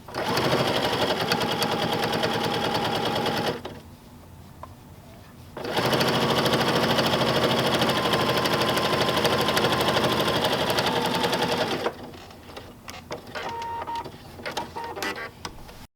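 A sewing machine fitted with a 1/4 inch foot stitches binding onto a quilt in two long, steady runs of fast, even whirring, with a short quiet pause between them, then ends with softer intermittent handling noises.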